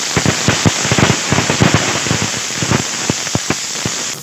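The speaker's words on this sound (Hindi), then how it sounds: "उसी के साथ हम डाल देते हैं लहसुन और अदरक।" Garlic and ginger hitting hot oil in a pan while cooking a peanut nimona, a loud close sizzle with rapid irregular pops and spatters crackling over a constant hiss, no talking.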